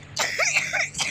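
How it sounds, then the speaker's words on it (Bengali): A single short, close cough from a person indoors at home, loud and abrupt, with no talk around it. "আমার একটু কাশি আছে"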